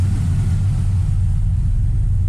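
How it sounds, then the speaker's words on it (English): A 5.3 LS V8 swapped into a Chevy S10 with dual exhaust idles around 850 rpm in a garage, a deep, steady rumble and even low throb, close and continuous with no talking. "I got it idling a little better now in the garage."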